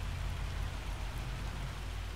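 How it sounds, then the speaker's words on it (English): Hail falls in the farming game Farming Simulator 25 as a steady hiss of dense, fine impacts with faint low thuds underneath. No voices are heard. "this is definitely hail, because you can see it's starting to settle on the ground"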